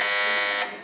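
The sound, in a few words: quiz buzzer beeping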